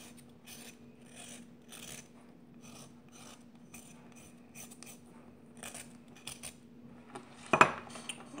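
Scraping food colouring from a paint-like pot, a run of soft dry rasping strokes repeated in short bursts, close and fairly quiet, ending with one sharper louder scrape.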